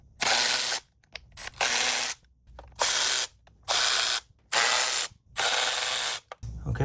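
Ratchet with a 10mm socket loosening coil pack cover bolts on a 1991–2005 Acura NSX, about six loud rapid clicking bursts separated by short pauses, close up and without talk.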